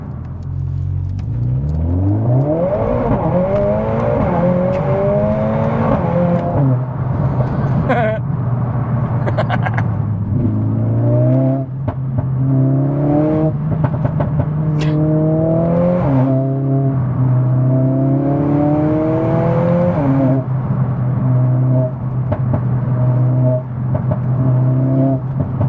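A Mercedes A45S AMG accelerates hard through the gears, its engine note climbing steadily, dropping briefly at each shift and rising again, loud and close throughout with no talk.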